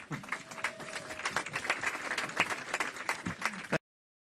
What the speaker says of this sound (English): A round of applause for the new mayor.